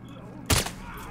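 A single sharp gunshot in the Call of Duty Modern Warfare 2019 campaign, a loud short burst over low game ambience and faint voices.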